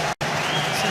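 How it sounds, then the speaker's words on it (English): Football crowd at the Hartlepool United vs Torquay United playoff final giving a sarcastic round of applause, a dense, loud clatter of clapping broken by a brief cut, over in under a second. "sarcastic round of applause given there."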